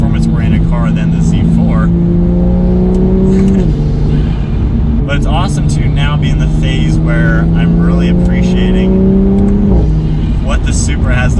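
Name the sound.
sports car turbo and exhaust accelerating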